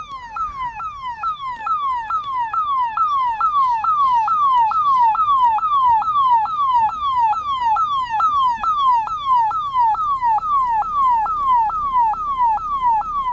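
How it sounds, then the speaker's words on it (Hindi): A loud electronic siren wails in a fast, repeating up-and-down yelp, running steadily throughout with no voices. "सायरन की डर से ये कालू भागता हुआ आ गया।"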